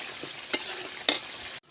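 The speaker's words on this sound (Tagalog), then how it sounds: "naglabas na yung oil niya guys. Hintayin po natin yung latik na mag-brown" Coconut milk curds (latik) frying and browning in their own oil in a pan for homemade biko, a steady close sizzle with two brief stirring scrapes, no talking.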